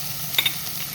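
Chili powder being stirred into onions, green chilies, ginger and garlic frying in a pan for squid curry: a steady, close sizzle with a couple of brief scraping touches of the spoon, and no voices.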